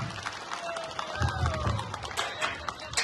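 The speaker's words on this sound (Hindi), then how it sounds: "जोरदार ताली होनी चाहिए भाई लोग" Crowd at a play applauding loudly, a continuous wash of clapping and cheering with a rumbling undertone, sustained and fairly even, with faint voices mixed in.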